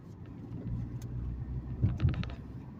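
A 2.3-liter four-cylinder car with a five-speed manual gearbox runs with a steady low engine rumble, swelling briefly in two louder surges near the end.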